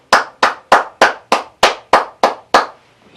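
Nine sharp, evenly spaced claps ring out close and loud in a steady rhythm, each with a short echoing tail, as a congregation acclaims together in a church setting.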